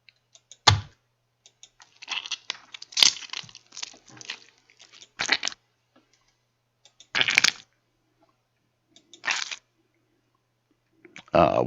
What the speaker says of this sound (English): And some tomato sounds.